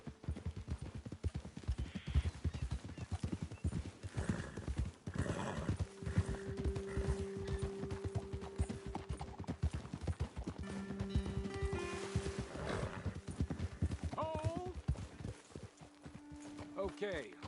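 Steady clip-clop of horse hooves on hard ground in Red Dead Redemption 2 with an occasional whinny, while a voice talks intermittently over the walking rhythm.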